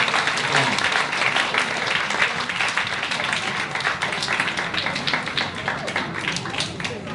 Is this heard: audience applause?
yes